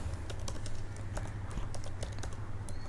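Steady, rapid clicking of keys on a computer keyboard as someone types a line of text, close and continuous over a low background hum, with no voices.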